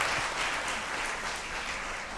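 Audience in a TV chat show studio claps steadily, a dense, even burst of applause heard up close for about two seconds with no speech over it.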